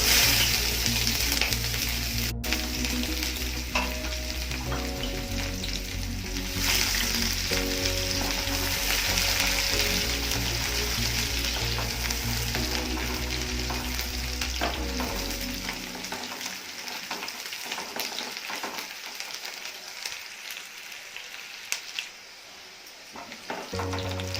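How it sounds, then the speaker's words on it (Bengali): Finely chopped onions fry in a pan with black cumin in home-style Bengali cooking, giving a steady, close, loud sizzle with occasional stirring scrapes that quiets toward the end. "পেঁয়াজটা দেখো ভাজা ভাজা হয়ে গেছে"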